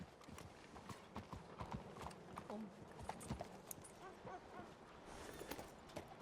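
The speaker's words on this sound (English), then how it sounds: "I hear a horse." Horse hooves clip-clop closer in the Western role-play game WildRP, a quick irregular patter of hoofbeats with faint background sounds and a few soft whimpers.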